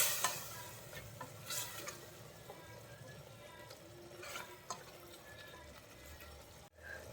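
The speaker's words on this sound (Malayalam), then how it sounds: "ഏകദേശം ഒരു 1/2 ടീസ്പൂണോളം മഞ്ഞൾപ്പൊടി ചേർത്തിട്ട് നന്നായിട്ടൊന്ന് മിക്സ് ചെയ്ത് കൊടുക്കാം." A spoon stirs half a teaspoon of turmeric powder into cooked onions in a pan, faint scraping strokes over a soft continuous sizzle, with no talk.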